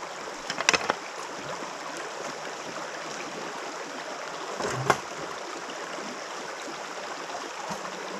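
Water rushes steadily over a gold pan as it is rinsed outdoors, a continuous broadband wash with a couple of brief knocks and splashes.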